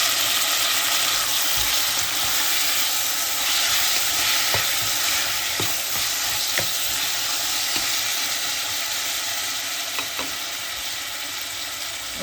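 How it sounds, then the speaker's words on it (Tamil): Tomatoes and chillies sautéing in a pan, giving a dense, steady sizzle and hiss throughout with a few faint stirring clicks, close and even in level, no speech. "ஒரு 2 நிமிஷம் தக்காளியும் கறி மிளகாயும் வதங்கட்டும்."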